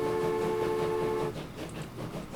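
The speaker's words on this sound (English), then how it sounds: "I love lots of steam trains appearing on the screen at the same time" Steam train whistles in the Transport Fever simulation game: a steady, loud tonal whistle for about a second, then rumbling, clattering rail noise.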